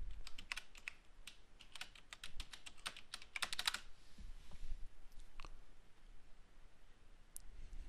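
Fingers type a password on a computer keyboard in a burst of quick, close clicks and key taps, then a short pause and a few scattered keystrokes, with no talking.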